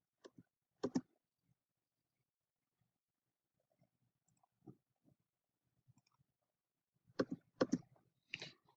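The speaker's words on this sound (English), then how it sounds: "And I'm using the spacebar" Keys on a computer keyboard, including the spacebar, give quick, close clicks in a short burst at the start and a denser cluster near the end, with scattered soft taps between in an otherwise quiet room.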